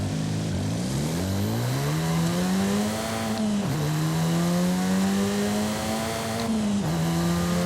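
A steady 2-litre Renault Clio R.S. 2010 engine in Forza Horizon 5 drones at high revs throughout, its pitch climbing during acceleration and dipping briefly at two gear shifts.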